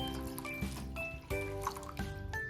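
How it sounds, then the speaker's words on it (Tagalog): Water pours and splashes into a pot, gurgling unevenly for a couple of seconds, close by with no talking. "At magdadagdag tayo ng tubig."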